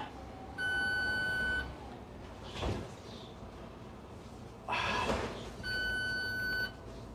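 Two bursts of steady electronic warning beeps sound inside a bus being driven without a driver card, each lasting about a second, over a low engine rumble and cabin noise.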